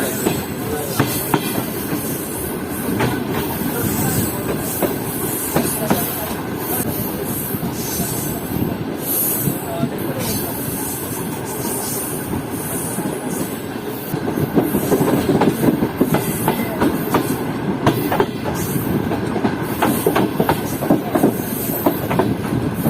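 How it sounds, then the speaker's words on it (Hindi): Karakoram Express train running on the tracks near Baran Barrage, Pakistan, a steady loud rumble with clickety-clack of wheels and occasional squeal, continuous throughout and swelling louder in the second half. "ट्रेन उसी देर में पहुंचने वाली है बारान बैराज के ऊपर"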